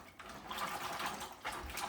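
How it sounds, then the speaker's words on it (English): Fresh garden green beans swished around by hand in a bowl of water to wash off dirt, making soft sloshing and splashing with a brief gurgle, fairly quiet and close. "really clean them good in some water, kind of agitate it around to get any dirt off"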